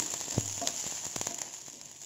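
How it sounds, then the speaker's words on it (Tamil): Shallots and curry leaves frying in hot oil for a capsicum coconut chutney tempering, a continuous close sizzle with scattered crackles and a few brief stirring taps. "நல்லா இந்த அளவுக்கு பொன்னிறம் ஆகிற அளவுக்கு வறுத்துக்கோங்க"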